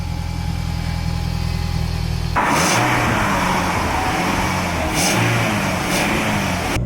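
A Toyota Avensis SR fitted with a new deep, bassy custom exhaust drones at a low idle, then jumps into a louder, rougher rev with a few throttle surges, heard close by.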